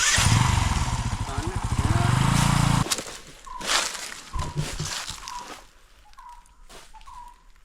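A motorcycle idles and revs loudly nearby on a forest road for about three seconds, then cuts off, leaving quiet outdoor sounds with footsteps and scattered faint clicks.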